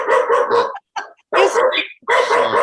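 A dog barks loudly and close, in several bursts of rapid yapping barks separated by brief pauses.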